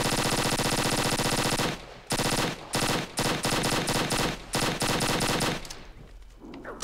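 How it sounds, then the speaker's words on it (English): Rapid, sustained chain gun fire in the video game Halo Custom Edition on the Survival Canyon Beta map, loud continuous bursts broken by a few short pauses before trailing off. "Oh, it's just a chain gun"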